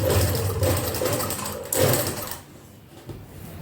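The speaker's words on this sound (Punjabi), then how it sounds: "ਜਿੰਨੀ ਆਪਾਂ ਸ਼ੋ ਕਰਨੀ ਆ ਲੈਸ ਉੱਤੇ ਉੱਤੇ ਸਲਾਈ ਲਾਵਾਂਗੇ" A sewing machine stitches lace onto a round garment neckline, running close and steady in a rapid whirring rhythm, then easing off and going quieter near the end.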